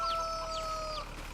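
Chickens cluck in a farm chicken pen in the Farming Simulator 22 video game, several soft, overlapping squawks and chirps repeating steadily over a low background hum, with no one talking.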